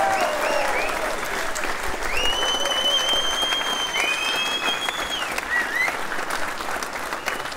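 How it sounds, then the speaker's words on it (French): Sustained applause and cheering from a crowd at the Golden Globe Race 2022 prize giving, steady and dense throughout, with a few voices rising above the clapping. "encore des bravos et des applaudissements pour Kirsten Neufschäfer"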